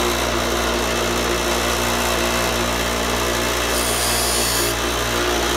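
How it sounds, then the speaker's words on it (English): A power sharpening wheel spins at speed while a chisel is ground lightly to remove burrs, giving a loud, continuous whir with faint grinding as the steel touches. "So we're going to do this real quick and light, just to get these burrs off."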